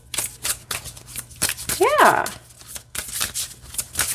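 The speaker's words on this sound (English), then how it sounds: "I don't have a problem with shuffling it at all." Oracle deck cards from an Enchanted Forest set being shuffled by hand, a quick papery riffle with a snapping flutter in the middle, close and moderately loud, alongside a brief spoken word and soft chatter.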